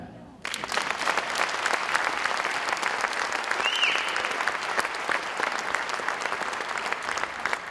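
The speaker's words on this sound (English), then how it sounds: "You can clap." An audience at a musical tribute concert breaks into sustained applause that starts abruptly and stays dense and even for several seconds. The sound is broad and roomy, with no talk over it.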